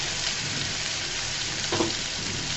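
Prawns fry in hot oil with red chilli powder, giving a dense, even sizzle that holds steady and close for the whole short stretch with no talk.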